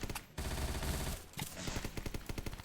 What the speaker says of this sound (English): I shouldn't be shooting!